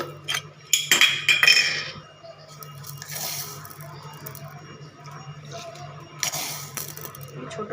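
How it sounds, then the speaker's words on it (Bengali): A small spoon clinking against a container while sugar is scooped in for dhokla, several bright metallic taps up front, then a softer scraping and a final clink, close by in a kitchen. "ছোটো চামচ থেকে 3-4 চামচ চিনি দিচ্ছি"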